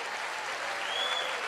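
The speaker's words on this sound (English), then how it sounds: "Give yourselves a round of applause." Audience applause at a motivational speaking event, a steady dense wash of clapping from a crowd, loud and sustained throughout with no voices on top.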